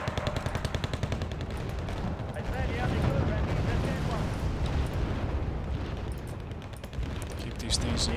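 Dense, continuous gunfire and mortar fire in the war game Wargame Red Dragon roar without a break, loud machine-gun rattle layered over booming impacts, with a voice talking over the din.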